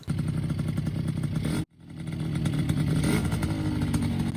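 A Honda MBX80 80cc motorcycle engine runs loud and close, its steady mid-pitched drone cutting out abruptly for a moment before picking back up and building again.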